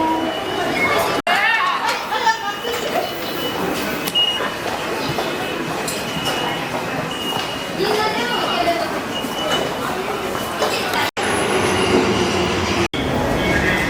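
Loud rumble of a Tokyo train moving along the tracks, with metallic squeals and people chattering nearby throughout.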